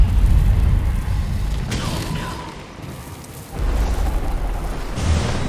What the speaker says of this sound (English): That bloodstone explosion seemed to trigger some sort of magical echo